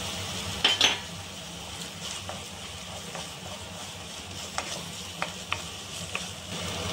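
Cumin seeds drop into a pan of ash gourd buttermilk curry and fry with a faint steady sizzle, broken by a few light clinks of a spoon against the pan.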